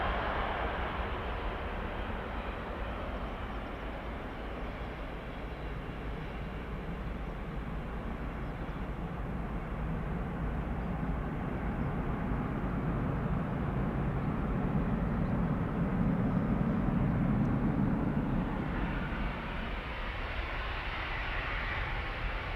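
Embraer jet departing Amsterdam Schiphol Airport, a steady broadband engine roar held throughout, swelling slightly near the middle before easing, with no talk over it.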